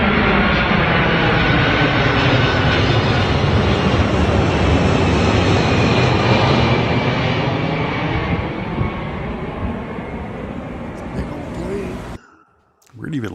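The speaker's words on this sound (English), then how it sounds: "It's the world's biggest aircraft now. It's called the Stratolaunch." The Stratolaunch, the world's largest aircraft, produces a loud, sustained, broadband engine roar with a steady whine. It holds for about twelve seconds, then cuts off abruptly, and voices can be heard talking over it.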